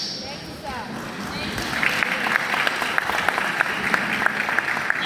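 Graduating students of Deeper Life High School in Abuja receive applause at a graduation ceremony: the clapping starts soft, then swells into steady, sustained applause from a sizable crowd, with a voice speaking over the opening.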